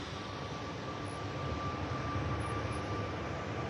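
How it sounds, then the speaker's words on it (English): An aircraft at Manchester Airport produces a steady, distant roar of jet engines that holds at an even, moderate level throughout, with no talking. "Those two aircraft heading to Dalaman."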